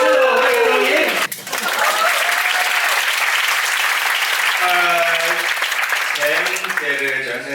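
Dense applause from a theatre audience at a Cantonese stage play, filling the hall steadily throughout, with a host speaking over it near the start and again toward the end.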